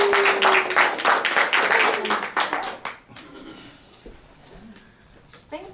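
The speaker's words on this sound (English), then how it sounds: "let's give a nice round of applause for our guest speaker today, Carolina Corada." An audience at a talk applauds a guest speaker: a few seconds of close, lively clapping from a modest crowd that quickly dies away into quiet room noise with a few stray claps.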